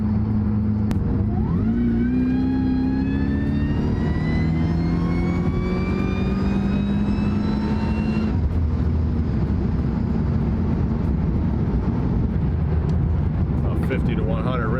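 Engine runs loud and steady throughout, rising in pitch through a long rev or acceleration, then settling into a rough, continuous drone.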